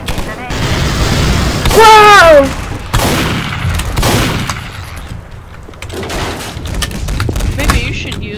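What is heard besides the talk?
shotgun fire in video game Garry's Mod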